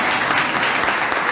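A church congregation at a Baptist church in Jaboatão dos Guararapes claps, a dense, steady wash of many hands that fills the whole short moment without pause.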